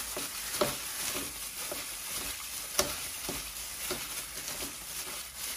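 Cornstarch being stirred into a sizzling pan mixture for Caribbean pepper steak, making a continuous soft frying hiss with faint scraping strokes and one brief tap, heard close without talk.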